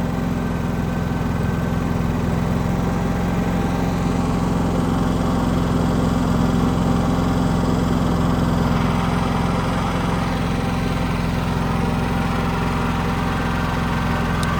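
A food truck generator engine idles as it warms up with the throttle set, giving a steady, loud, continuous mechanical drone with constant vibration and no talk throughout.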